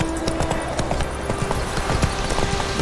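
Roach the horse's hooves clip-clopping steadily in The Witcher 3, a continuous brisk gallop over a constant bed of game ambience and wind.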